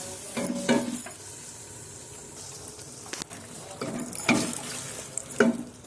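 Moong lentils stirred quickly in a hot, sizzling pan while potatoes cook, a steady frying hiss broken by several scraping stirring strokes close by, with no talking.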